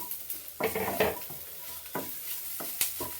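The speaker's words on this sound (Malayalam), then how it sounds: "ഇനി ഇടുന്നത് പച്ചമുളക് കറിവേപ്പില കുറച്ച് ഇഞ്ചി അതും കൂടെ ഇട്ട് വഴറ്റി" Green chillies, curry leaves and ginger sizzle and get stirred in a pan, with several sharp scrapes and clinks of a utensil against the metal over quiet frying, close and without voices.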